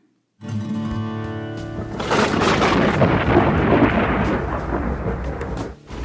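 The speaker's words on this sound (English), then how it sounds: "Thunder and rain pounded the bookshop." A long, loud rumble of thunder swells and fades over steady heavy rain, starting suddenly after a brief silence.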